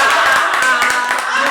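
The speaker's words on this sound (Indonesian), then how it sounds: "Tepuk tangan lagi dong." Close, brisk clapping from a small group during a casual sports-themed talk show, rapid overlapping claps forming a steady patter with no talking.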